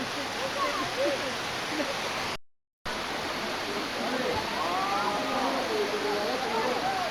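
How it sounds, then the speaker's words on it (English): A waterfall at a Blue Mountains lookout near Wentworth Falls gives a steady, distant rush of water, with voices talking over it and a brief silent gap. "Very popular waterfall, this one."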